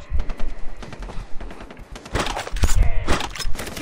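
Shotgun and pistol blasts ring out in Far Cry 3 co-op combat, a busy string of sharp, close shots with thuds and clatter, growing heavier toward the end.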